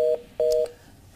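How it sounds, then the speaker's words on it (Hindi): Telephone tones as a call disconnects: two short steady electronic beeps, the second longer, then a quiet background with no voices. "तो फोन लगता है कट हो गया"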